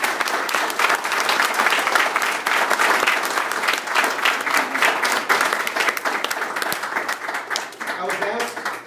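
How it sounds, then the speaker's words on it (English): Loud, continuous audience applause from a large crowd, dense and even for most of the stretch, with a voice starting over the clapping near the end. "So could we please give them all another round of applause?"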